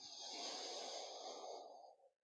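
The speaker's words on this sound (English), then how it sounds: "Breathing in the nose smoothly" Steady inhalation through the nose during a faster-paced flow yoga session, one smooth, continuous breath lasting about two seconds, close and fairly loud, then fading out with no talk over it.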